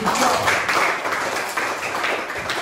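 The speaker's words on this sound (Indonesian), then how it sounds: "tepuk tangan untuk kita semua" A small group claps together in a dense, steady patter at close range, keeping up the applause throughout with little talk over it.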